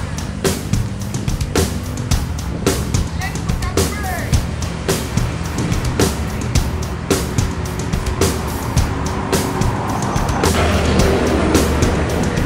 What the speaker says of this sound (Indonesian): Bus dari Jakarta yang pertama masuk hari ini adalah ANS dengan julukan Berkah.